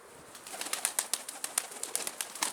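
A tumbler pigeon beats its wings in a fast, steady run of soft, airy flaps, close by and fairly quiet, with no voices.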